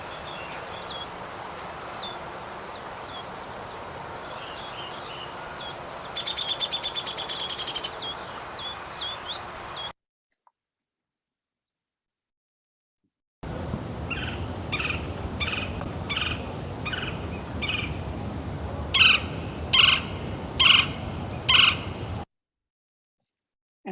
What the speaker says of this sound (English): We have 2 woodpeckers that usually occur in San Antonio.